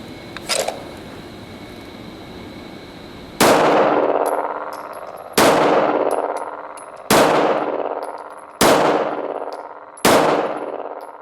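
Five strong-hand pistol shots in a training drill, fired singly at roughly two-second intervals, each a loud sharp crack with a ringing metallic tail, preceded by a brief clatter of handling noise.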